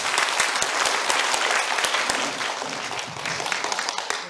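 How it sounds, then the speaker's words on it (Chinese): An audience at a hospital director's health lecture applauds steadily, a dense, continuous roar of many hands clapping at close range with no voices on top. "再次掌声欢迎李院长。"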